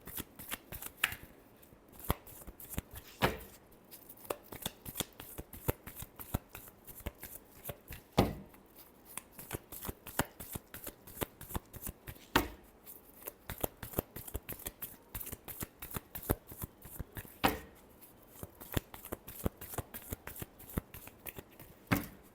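Tarot cards are shuffled again and again in quick, crisp riffles and slaps, close and clear, with a dense rhythmic pattern all the way through.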